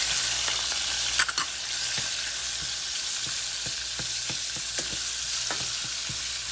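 Chorizo and salt pork sizzle steadily in a pot, a soft continuous frying hiss punctuated by occasional light stirring clicks, with no voices.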